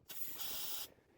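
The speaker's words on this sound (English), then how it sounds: "Let's get some carb cleaner right down the tube." Carb cleaner sprayed straight down the emulsion tube of a small-engine carburetor, a single close, steady aerosol hiss lasting under a second before cutting off sharply.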